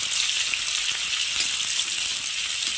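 Onions and green chillies frying in hot oil with cumin, heard as a loud, continuous, close-up sizzle and crackle with faint stirring and no voices.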